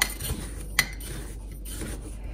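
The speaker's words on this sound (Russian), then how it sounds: "в данный момент я беру 2 ложки соли" A spoon clinks once against a bowl while spooning salt, amid quiet scraping and rustling, close by.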